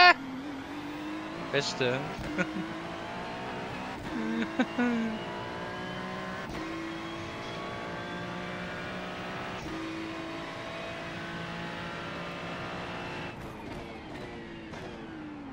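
An Audi race car engine drones steadily through a sim racing session at Sebring, a sustained harmonic whine rising and falling with throttle and gear changes, with a couple of brief louder bursts early on and people talking over it.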